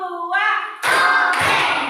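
A primary school class at SDN 013 Sagulung, Batam claps together in rhythm, two loud group bursts of many hands following a teacher's short spoken cue.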